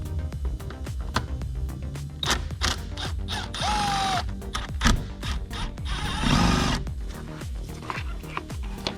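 A ratchet on a 10mm socket extension works bolts loose on a 2001 BMW 330xi during a blower motor replacement: rapid close clicking ratchet strokes in bursts with a few brief metallic clunks, no voices.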